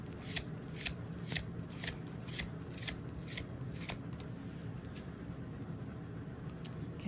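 Large oracle cards held horizontally are shuffled in a steady run of crisp riffling bursts about every half second, close and clear over a low background hum, then the shuffling thins out toward the end.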